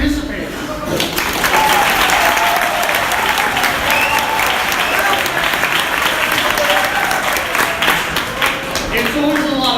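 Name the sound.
audience applause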